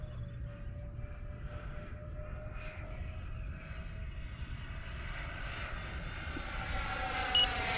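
A small RC model F-14 jet with a 64mm ducted fan climbs in the distance, a faint, airy whine that rises gradually in pitch and loudness.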